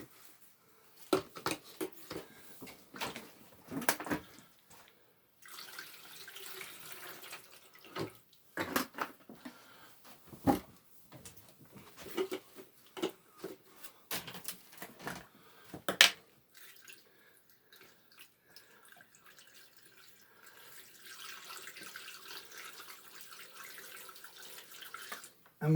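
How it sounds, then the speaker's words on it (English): Water is poured into an AeroGarden hydroponic planter reservoir, heard as quiet, intermittent splashing and trickling in short bursts with pauses and handling clatter, followed by a faint steady flow. "I have to fill the water up"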